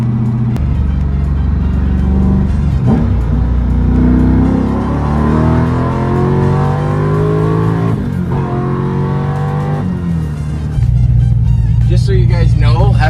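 LS3 V8 engine in a swapped Nissan 350Z pulling hard, a loud deep rumble rising steadily in pitch through the gears with a short dip at a shift, heard from inside the car.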